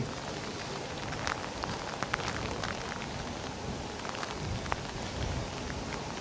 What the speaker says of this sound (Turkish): yağmur iyice yağıyor sağ olsun